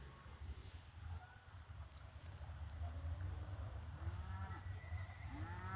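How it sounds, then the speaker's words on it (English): Cattle lowing during a cattle drive through a small Southern Alberta town, several moos overlapping at moderate distance over steady outdoor wind and hoof noise, with no talking. "It's got to be at least 500 cattle here."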